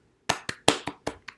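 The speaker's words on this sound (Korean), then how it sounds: "박수!" Six separate claps from a small group welcoming a new pastor at a youth church service, each a sharp, close hit with a short decay, spaced unevenly over about a second.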